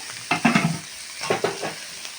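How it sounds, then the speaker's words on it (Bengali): Cut potatoes are tossed into a pan with lightly fried green chilli, giving two short clattering, sizzling bursts of stirring close by, then a faint hiss. No one speaks. "একটুখানি হালকা করে আমি ভেজে নিব তার সঙ্গে আমি দিয়ে দিচ্ছি আমার কেটে রাখা এখানে আলুগুলো"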